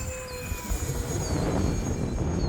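An Eflite Cirrus SR22T radio-controlled model airplane flies overhead with a thin, steady electric motor whine over broadband outdoor wind noise, gradually growing louder.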